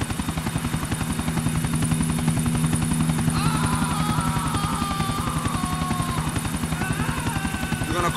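A helicopter in GTA The Ballad of Gay Tony gives a steady, rapid rotor chop and engine drone throughout, with faint tonal sounds entering midway.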